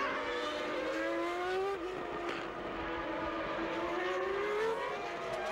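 1994 Formula 1 cars, a Benetton and a Williams, race on a circuit with a sustained, high-pitched engine whine whose pitch rises and dips as they pass through the lap, with no voices.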